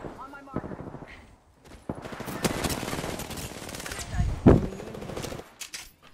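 Rapid automatic gunfire from a late-stage Apex Legends match with three squads left comes in dense, sustained bursts that swell toward the middle, mixed with players talking over it.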